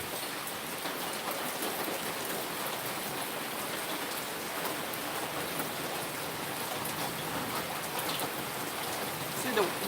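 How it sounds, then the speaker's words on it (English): Heavy rain pours down in a storm with wind blowing debris around, a dense, steady hiss of drops drumming on surfaces that lasts throughout, with no voices. "the wind is blowing stuff around and the rain is pouring down"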